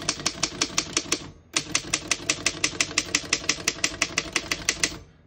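Keys striking on a 1928 Underwood No.5 antique desktop typewriter, a quick steady run of sharp mechanical clacks with a brief pause, then another long even burst, close and loud with no talk.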